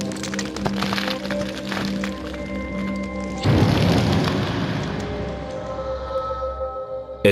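Artillery fire on D-Day near Juno Beach: deep booming explosions with sharp cracks, a heavy blast erupting midway and rumbling debris trailing off, loud and close.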